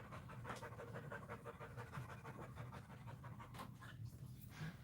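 A dog pants rapidly and steadily after a run, a continuous breathy rhythm close by at low volume with no talking.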